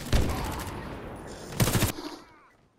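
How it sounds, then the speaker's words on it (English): Gunfire from the first-person shooter game Warface: a loud burst of rapid shots, then a second dense volley a moment later, fading into quieter game ambience. "He shot me with one bullet."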